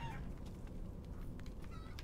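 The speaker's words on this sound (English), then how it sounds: "chicken!" A chicken clucks in Resident Evil Village, a few faint, brief calls over a steady low rumble of game ambience.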